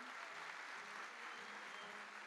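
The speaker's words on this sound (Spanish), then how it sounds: "hay que darle fuertísimos aplausos para este bono" An audience applauds steadily at an awards event for a home-business network, a dense, even wash of clapping that sounds distant and faint, with no voices over it.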